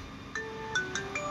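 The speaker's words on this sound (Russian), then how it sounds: "Так, звонят." Phone ringtone from an incoming call in a workshop while truck batteries are being serviced, a few short bright melodic tones repeating at moderate volume over a low background hum.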